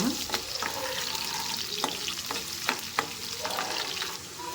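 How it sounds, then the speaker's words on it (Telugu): Chopped onion and green chilies fry in hot oil in a kadai, giving a steady close sizzle broken by scattered clicks and spoon scrapes as the pieces are stirred, with no voices. "కట్ చేసుకున్న ఉల్లిపాయ పచ్చిమిర్చి కూడా వేసుకుని కొంచెం ఇవి కూడా ఫ్రై చేసుకోవాలి బాగా"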